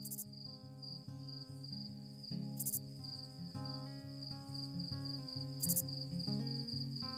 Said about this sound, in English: so I'll play some crickets for you.